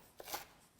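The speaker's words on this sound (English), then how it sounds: "With the watercress, I'm doing a rough cut." Knife rough-chopping watercress in a home kitchen, heard as a few faint, soft cuts close by, spaced unevenly within a brief moment.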